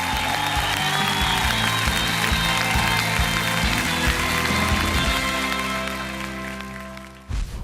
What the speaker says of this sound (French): On applaudit très très très fort, s'il vous plaît.